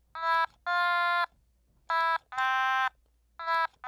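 An otamatone plays the original second-verse melody up close, five reedy, wah-like synthetic notes alone, some short and some held, separated by brief silences.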